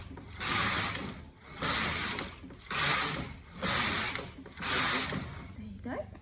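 Brother KH836 knitting machine knits rows of stocking net, the carriage sliding across in five regular rasping, clattering passes with brief pauses between them.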